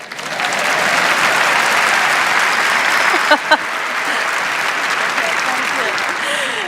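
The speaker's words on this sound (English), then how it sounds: "which means you've also got to clap Elizabeth." Sustained audience applause at a panel discussion on the end of the world, steady and dense from start to finish with a couple of sharper claps standing out midway.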